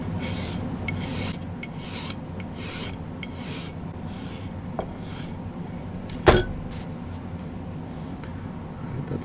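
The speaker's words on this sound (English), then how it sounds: "So I'm just going to file that bottom flap." Steady close filing on the bottom flap of a silver filigree pendant, a continuous fine rasp with soft rhythmic strokes and one sharp click or knock partway through.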